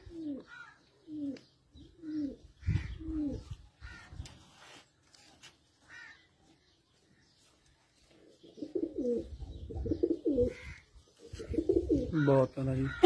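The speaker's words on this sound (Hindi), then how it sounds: "ये जी शेरदिल कबूतर आ गए माशाल्लाह, कबूतर जी हमारे।" Teddy flying pigeons coo in repeated soft, throaty phrases, loud and close, with a quiet gap midway before the cooing returns denser and stronger, and a voice joins at times.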